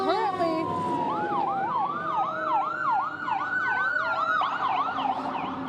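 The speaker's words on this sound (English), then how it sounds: "Excuse me one moment as I let those sirens go past us." Emergency vehicle sirens in Michigan pass nearby, loud and steady: wailing tones overlap with fast repeating yelp sweeps, layered from more than one vehicle over faint traffic noise.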